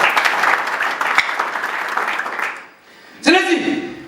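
Worshippers in a church congregation clap for the Lord, a lively, dense round of applause that fades after a few seconds, followed by a speaker's voice ringing out over a quieter room.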